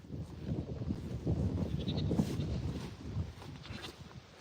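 Goats bleat a few times at moderate distance over a gusty wind rumble, with the calls short and scattered across the stretch.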